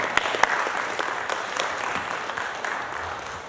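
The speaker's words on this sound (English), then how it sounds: "Let's give them another round of applause." Applause fills a city council meeting with steady clapping from a room of people, a few sharp claps standing out near the start before it settles into an even patter.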